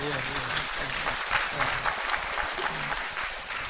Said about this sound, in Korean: 우리 이분들을 위해서 박수 한번 치겠습니다